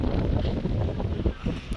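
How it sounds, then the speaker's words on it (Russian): Strong wind buffets the microphone outdoors at a Dragon Boat Festival in China, a steady loud rumbling roar with gusty swells through the whole stretch and no speech. "потому что сильный ветер"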